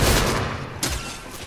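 Loud video game gunfire, a dense rattle of shots followed by a sharp louder report partway through, all close and without talk.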